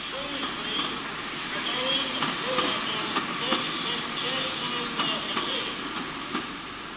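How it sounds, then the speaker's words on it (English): A 1926 Maunsell L1 class steam locomotive arrives at Tunbridge on a down local train: a steady hiss of steam runs under a regular, evenly spaced chuffing beat at moderate distance. "This is one of Mansell's post-grouping L1440s of 1926, arriving at Tunbridge on a down local in March 1961."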